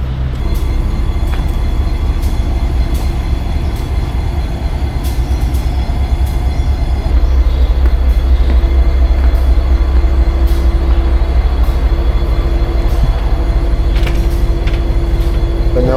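Panama Canal Railway train rumbling loudly and continuously, with clanking wheels, a steady low drone and faint squeals as the cars roll past close by.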